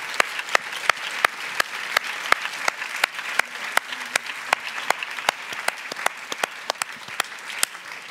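Audience applause at a theatre season presentation, honoring a retiring technical director: sustained clapping with sharp individual claps standing out, steady and lively from start to finish.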